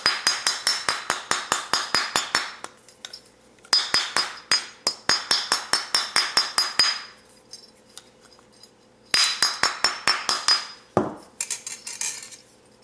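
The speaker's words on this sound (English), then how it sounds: "I'm just going to give it a few more taps." A hammer taps a wire bangle in quick bursts of ringing metallic strikes, each run of rapid taps separated by brief pauses, close and clear with no talking.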